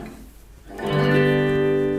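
A guitar sounds a major chord on the fifth scale degree after a short soft pause, the strummed triad swelling in and sustaining clearly with nobody speaking.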